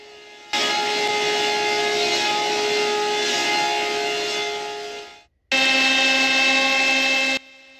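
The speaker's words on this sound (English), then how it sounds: "But this planer is running pretty fast for a planer." A fast-running planer at a sawmill feeding wood, a loud steady mechanical whine with strong tonal hum, cutting off briefly near the end before resuming at full loudness.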